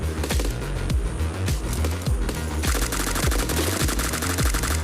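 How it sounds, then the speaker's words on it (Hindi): Rapid automatic gunfire in the Free Fire battle royale game, a dense run of repeated shots with a sharper, brighter burst taking over partway through, loud and close with no talking. "बगल से अलग फायरिंग हो जाती है शुरू"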